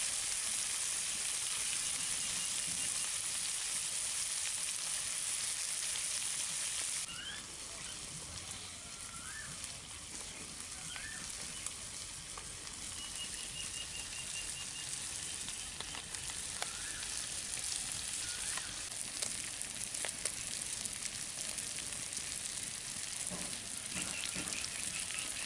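Chelwa fish fries in a pan over low heat, giving a steady, soft sizzle that stays even and continuous throughout, with no one talking.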